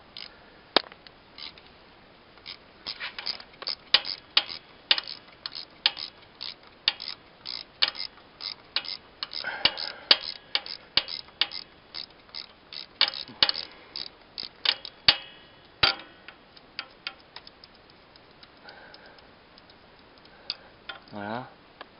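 A wrench loosening exhaust screws on a Yamaha XMAX scooter, with rapid, close ratcheting clicks in bursts throughout and someone talking intermittently over the work.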